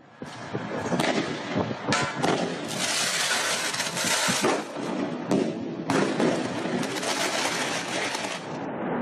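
A fireworks launcher fires at night at the Russian embassy building in Kyiv, with a dense run of loud bangs and crackling bursts in quick succession, close and continuous for most of the stretch.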